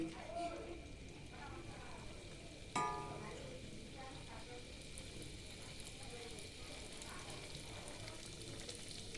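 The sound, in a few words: jaggery pitha frying in oil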